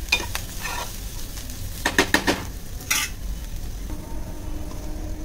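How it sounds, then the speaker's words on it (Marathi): Fresh coconut masala roasting in a pan sizzles softly and steadily, broken by several scraping strokes and clinks of a spatula against the metal, close up with no talking. "ओले खोबरे पहिले भाजून घेणार आपण"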